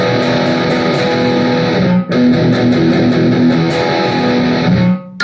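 An electric guitar with passive EMG pickups plays palm-muted chugs through a distorted metal amp channel, loud and dense, with a brief cut near two seconds and the notes ringing out and stopping at the end.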